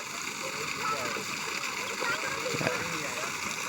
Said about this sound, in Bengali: এখান থেকে জলটা বের আসছে। এত প্রেসার